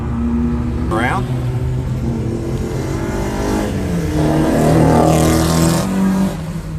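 Race car lapping Pukekohe Motorsport Park in New Zealand, heard from onboard as a steady, loud engine drone with rising revs and gear changes and constant wind and road noise.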